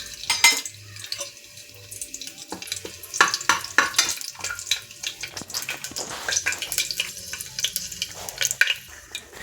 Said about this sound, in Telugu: ఆయిల్ హీట్ అయింది ఫ్రెండ్స్. ఆకు, లవంగం, జాపత్రి వేసుకుందాం.